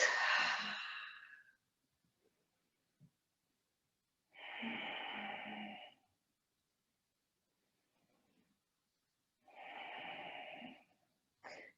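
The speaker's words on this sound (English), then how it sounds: "Deep breaths." Slow, deep breaths during yoga sun salutations, three long audible exhales separated by quiet pauses, close and clear with no talking.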